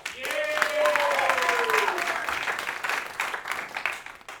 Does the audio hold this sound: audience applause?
yes